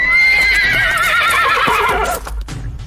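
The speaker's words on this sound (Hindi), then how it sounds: "घोड़े दहशत में हिनहिनाते हुए अपने पिछले पैरों पर खड़े हो गए।" Panicked horses rear up and let out a loud, close, shrill whinny that wavers for about two seconds before breaking off. A few hoof thuds and stamps follow.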